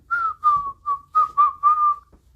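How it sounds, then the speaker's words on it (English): A cheerful, jolly tune whistled close and clear in six short melodic phrases with brief breaks between them. No voices accompany it. "yeah, Naruto's whistling, doing a jolly tune"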